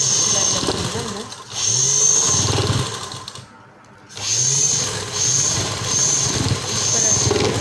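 Sewing machine stitching a pant seam, a steady mechanical whir running in bursts with a brief pause midway, heard close.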